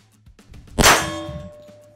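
A bullet striking a steel shooting target gives a single sharp metallic clang that rings out and decays over about a second, loud and close, with no voices.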